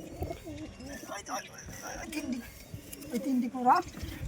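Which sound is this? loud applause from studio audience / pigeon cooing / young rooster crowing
pigeon cooing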